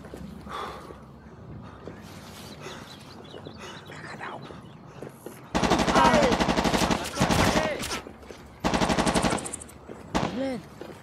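Machine gun fire from the Vietnam War game Shellshock 2: Blood Trails, heard in two loud sustained bursts of rapid automatic shots over a quieter bed of game ambience, followed by a shorter final burst.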